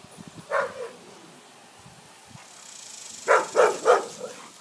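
A boxer dog barks outdoors: one bark early on, a short pause with faint rustling, then three quick barks close together.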